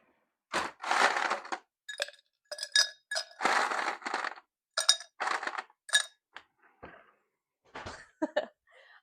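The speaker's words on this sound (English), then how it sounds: "Ice in our Collins glass." Ice cubes are dropped into a Collins glass in a series of close, bright clinks and cracks, some single and some in quick clusters, loud against a quiet background.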